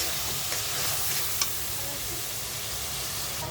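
Bay leaves and cardamom pods fry in hot oil in a pan, giving a steady, close crackling sizzle throughout with a few brief clinks of a utensil.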